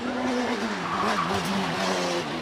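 A hillclimb race car at the Prescott British Hillclimb Championship sweeps past at about 100 mph, a loud rising-then-falling engine note with a tire-squeal edge, lasting a couple of seconds.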